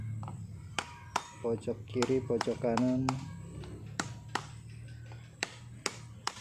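Sharp, distinct knocks tap bearings into place on a paper shredder gearbox, some single and some in quick clusters, with someone speaking over part of the sequence.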